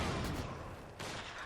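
Vickers machine gun fire in the video game Company of Heroes 2 amid a dense wash of battle noise, with sustained broadband gunfire and a renewed burst near the end, steady and loud throughout.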